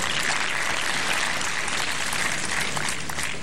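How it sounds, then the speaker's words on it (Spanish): A tennis crowd applauds loudly and continuously after a winning shot, a dense, even patter of many hands clapping at once, at Viña del Mar in 2004. "Hasta el Nico lo aplaudió."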